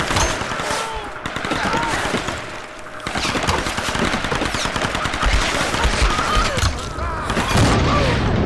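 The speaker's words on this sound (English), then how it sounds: "So I'm gonna shoot that bastard over there." Gunfire from Tomb Raider 2013 rattles almost nonstop, with dense rapid bursts and single cracks layered over a busy, loud combat backdrop with no pause.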